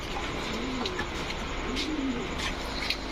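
Birmingham Roller pigeons coo softly in a loft, a few low rolling calls over a steady hiss of background noise, with no talking.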